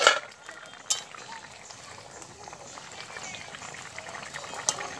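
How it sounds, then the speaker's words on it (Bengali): Potatoes bubble in a covered pot, a soft continuous simmer with a few sharp clinks near the start and end, close and fairly quiet. "ঢাকনাটা খুলে দেখে নিই আলুগুলো কেমন সেদ্ধ হয়েছে।"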